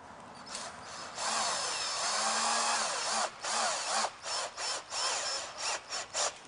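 Screws driven with a power drill into an RV roof, squeezing out butyl tape as they snug down; a long steady whir followed by a string of short, close bursts tapering off, no talk.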